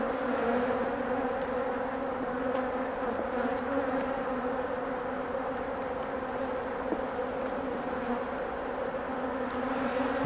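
Honey bees hum in a steady, dense drone around an open hive of a recently split colony during a frame inspection, close and continuous throughout with no talk.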